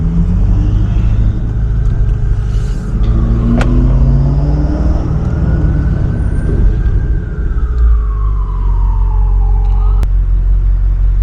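A 640HP BMW M550i driven hard at night, its exhaust rising through loud acceleration pulls, with rumbling engine tone climbing and falling between gear changes, close and dominant.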